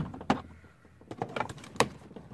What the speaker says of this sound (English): I'm going to start prying this switch out right here